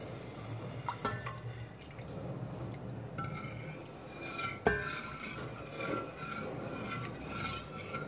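Paneer whey stock poured into a pan of vegetables sautéed in butter for mixed vegetable soup, a steady liquid splash and trickle heard close, with a brief clatter midway and no talk.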